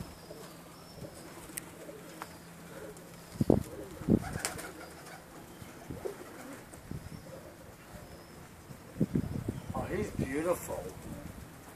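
Pigeons at a loft in Port Richey, Florida, with soft cooing and flutters of wing flaps rising over steady outdoor background noise and occasional human voices.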